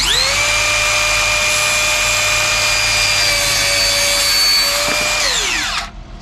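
Circular saw whining at full speed through wood while building a shelf for camping gear, one loud sustained high-pitched cut lasting several seconds before the blade spins down and stops.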